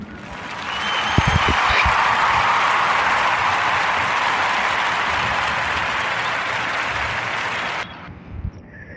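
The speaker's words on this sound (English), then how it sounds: "Give a warm narrative podcast round of applause for Garden of Youth and Alex Love" A podcast audience gives a sustained round of applause, broad even clapping that holds at moderate level for several seconds, a couple of louder nearby claps early on, then cuts off abruptly near the end.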